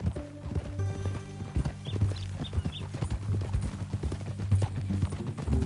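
Horse hooves clip-clopping in a steady walking rhythm, fairly close, with a low hum in the background.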